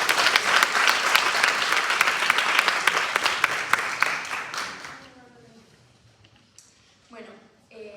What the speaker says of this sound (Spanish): pedimos con un fuerte aplauso a Gabriela Rivas